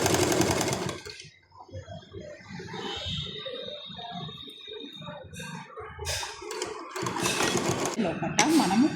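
Electric sewing machine stitching the side seam of a dress, bursts of fast rattling needle clatter starting and stopping, heard under a woman's ongoing speech close to the machine.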